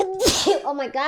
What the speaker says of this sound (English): I know I have to sneeze. I'm so sick of these allergies.